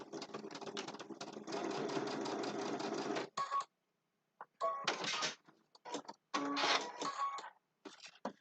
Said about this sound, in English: Just did a little top stitch across.